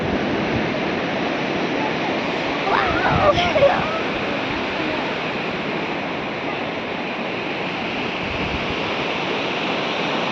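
Sea waves at Nawapur beach, a continuous loud wash of surf with a brief louder swell midway, steady and unbroken throughout.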